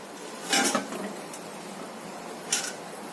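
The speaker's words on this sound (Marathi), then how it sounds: "आता हे चांगलं ढवळून घेऊयात आपण।" Mandeli fish curry being stirred in a pot, with two brief bursts of utensil scraping and clinking against the pot around a quiet simmer, close and moderately loud.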